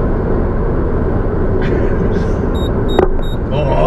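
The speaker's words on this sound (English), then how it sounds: "You can hear a little bit of road noise, a little bit of wind noise" Steady road roar and wind rush fill the cabin of a 2019 Toyota Vios cruising at highway speed. The rumble is constant, with a few faint clicks and chimes on top.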